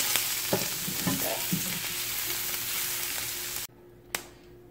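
Paneer cubes fry to golden brown in a pan for butter paneer, a dense, loud sizzle with a few scraping stirs early on that cuts off abruptly, followed by quiet and a single sharp knock.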